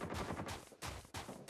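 Call of Duty Mobile gunfire strikes the player: dense, loud bursts of rapid shots crackle close by with almost no pause between volleys.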